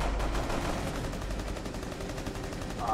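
Rapid gunfire in the tactical shooter Rainbow Six Siege rattles as a dense, continuous burst of shots at moderate volume, with no clear gaps between them.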